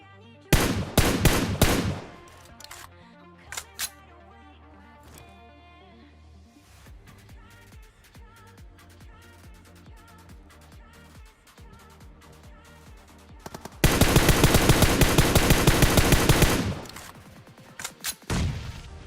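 PUBG Mobile gunfire opens with a few sharp shots, gives way to quieter in-game sounds, then returns as a long, loud sustained burst of automatic fire near the end.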